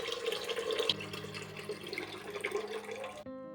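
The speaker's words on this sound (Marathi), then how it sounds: "दीड ते 2 तांबे पाणी आपल्याला यामध्ये टाकून घ्यायचं" Water is poured from a metal tumbler into a cooking pot for Rajasthani dal bati, a steady splashing stream that changes pitch as the vessel fills, then stops abruptly near the end; no one speaks.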